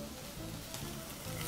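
Onions sauteing in leftover oil in a pan while cooking beef stroganoff, giving a steady, fairly soft sizzle that runs throughout with no voices.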